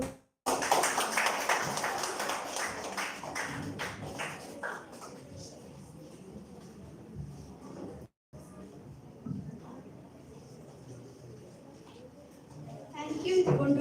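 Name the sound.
audience applause after a speech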